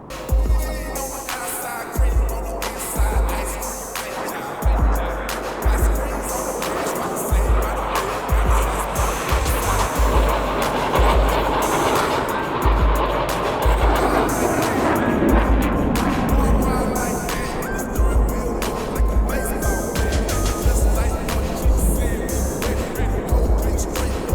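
Blue Angels jets in the DCS World flight game cross over show center at close separation, a loud sustained jet roar with rumbling low-end pulses filling the whole stretch, no talk.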